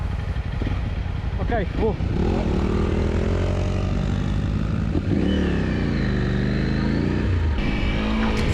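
A Honda CRF300L motorcycle engine drones steadily as it is ridden in hot weather, with a loud, continuous hum and gear-change rises beneath a rider speaking.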